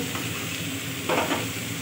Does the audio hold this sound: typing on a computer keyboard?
no